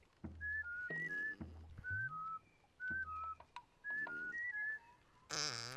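A character whistles in Oddworld: New 'n' Tasty, a series of short, bright whistled notes in quick phrases, with low blurting tones between them and a louder burst at the end; nobody speaks.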